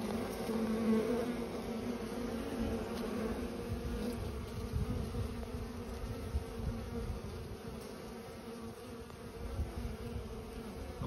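Honeybees return to the hive carrying pollen, a dense, steady buzzing hum of many wings close by with no voices.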